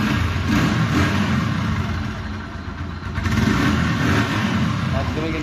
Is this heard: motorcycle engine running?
yes